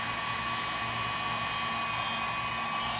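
A heat gun warms the adhesive on a Dansko cork sandal during a toe bar repair, blowing with a steady, even whoosh and whine that holds without pause, close and alone.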